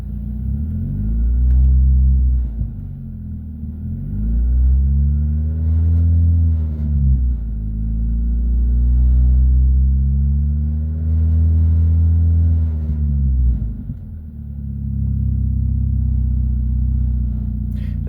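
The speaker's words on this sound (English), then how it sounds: "I guess I can rev it up a little bit here." A car engine is revved repeatedly in several long, deep pulses, each rising and falling in pitch over an idle rumble, loud and close with no talk.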